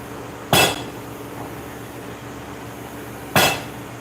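Two sharp, ringing hammer strikes on 1-inch 4140 steel over a mild steel anvil at a live forge, spaced about three seconds apart over a low background hum.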